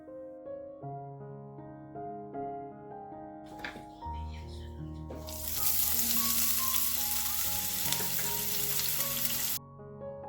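Small chopped onions dropped into a hot wok burst into a loud, dense sizzle partway through, hold for several seconds over background music, then cut off.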